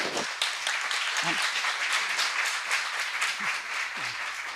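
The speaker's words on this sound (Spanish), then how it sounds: "La recibimos, por favor, con un fuerte aplauso." An audience at a conference greets a speaker with strong applause, a dense steady wash of many hands clapping throughout, with a few faint voices underneath.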